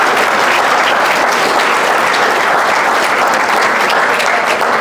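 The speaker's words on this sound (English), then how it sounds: "So let's give them a round of applause." Steady audience applause at an international program information session for a high school, dense and continuous from start to finish with no talk over it.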